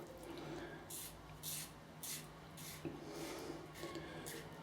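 A razor scrapes through soap lather in repeated close strokes, each a bright rasping burst at roughly one-second intervals, with no talk over it.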